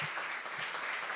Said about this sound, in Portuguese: Pode dar um glória, uma salva de palmas para o nosso Senhor Jesus.